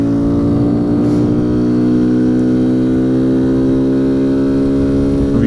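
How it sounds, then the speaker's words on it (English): A stock Kawasaki Z125 Pro motorcycle engine drones steadily at close range with a rising intake roar, loud and continuous with no voices, in Las Vegas. "You guys can hear that intake."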